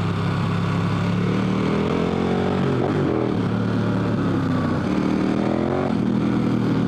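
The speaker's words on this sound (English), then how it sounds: "So right there, I'm romping on the throttle." An adventure motorcycle engine running steadily under throttle while riding on Michelin Anakee Wild 50/50 tires, with a continuous droning hum that rises slightly in pitch near the middle and end, heard close and alone.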